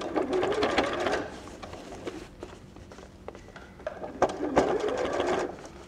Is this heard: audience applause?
no